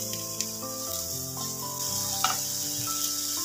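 Tomatoes fry with onions in a pan for a paneer dish, giving a steady, close frying hiss that runs throughout beneath prominent background music.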